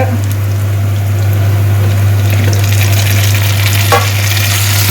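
Chopped onions sauté in a pan of hot oil for a Tamil curry, giving a loud, continuous frying hiss and crackle over a steady low hum, with a brief stirring clatter near the end and no voices.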